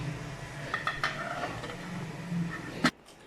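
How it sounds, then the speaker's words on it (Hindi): A metal pot being covered with its lid while hara masala rice cooks, a few light clinks and scrapes of cookware followed by one sharp clang of the lid settling near the end. "अभी मैं इसे ढक दूंगी"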